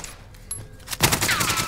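Rapid automatic gunfire in the video game Warzone erupts after a quiet moment, a loud sustained burst of closely spaced shots running to the end.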